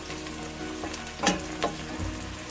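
Butter browns in a hot pan with a steady, close sizzle and frying crackle, broken by a couple of brief stirring scrapes.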